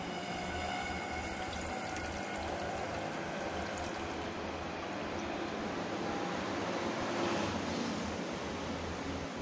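Warm paneer liquid poured through a muslin cloth, a steady, even, hissing wash of liquid running continuously at moderate level with no breaks.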